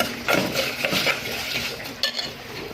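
Washed rice being stirred in a pan to dry off the water: a spoon scrapes and clinks against the pan in uneven strokes over a soft background sizzle, close and fairly loud.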